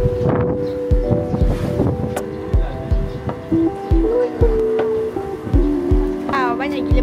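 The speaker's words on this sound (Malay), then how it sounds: "Banyak gila bot." Boat engines chugging on the water near a riverside fishing spot, with repeated low thumps and a steady drone, mixed with wind buffeting the microphone and brief voices.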